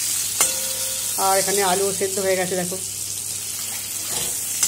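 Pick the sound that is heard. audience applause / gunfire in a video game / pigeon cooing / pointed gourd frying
pointed gourd frying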